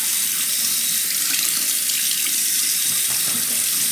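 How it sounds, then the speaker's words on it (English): A freshly honed straight razor blade rinsed under a running tap, the water hissing and splashing in a steady, continuous stream close by, with no talking. "Gonna rinse the blade underwater"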